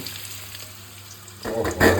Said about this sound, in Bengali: লালচে লালচে করে আলুটা ভাজা করে নেবে।